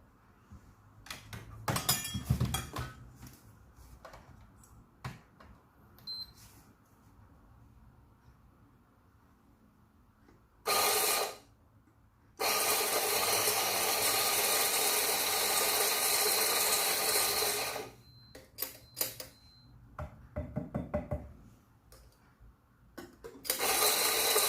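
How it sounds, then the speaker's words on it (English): Espresso coffee beans are ground in bursts at home beside a Quick Mill Rubino machine, with loud continuous whirring grinder runs separated by quiet gaps and a few clicks and clatters. "let me grind some beans"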